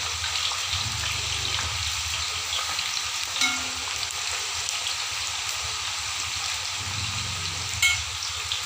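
Pieces of jackfruit fry in hot oil in a pan with a constant bubbling sizzle, while occasional stirring scrapes come up close with no talk.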